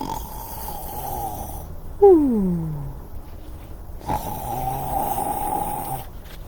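A person imitates a bear snoring with a drawn-out, falling, rumbly vocal sound, followed by a lower, softer breathy snore against a faint hum.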